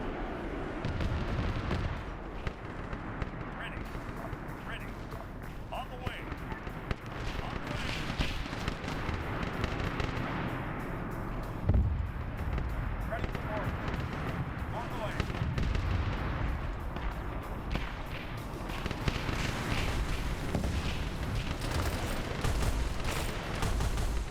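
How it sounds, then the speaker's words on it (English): Mortars fire in a Warhammer 40K Arma battle, with repeated booming thuds and blasts layered into a dense, continuous wash of gunfire and explosions. "there goes my mortars"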